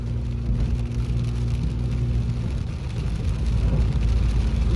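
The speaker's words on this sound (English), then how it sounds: "I'm not gonna be able to hear it because of my loud car." A loud car engine runs steadily and close by during a severe thunderstorm with hail, a low continuous rumble and whir that holds level for about five seconds with no talking.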